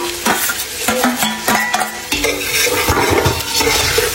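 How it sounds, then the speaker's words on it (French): Broth poured into a hot pot of lamb curry, sizzling and bubbling as a spoon stirs and scrapes, with several sharp clinks of utensil on metal throughout, close and fairly loud. "là je vais venir mettre le bouillon"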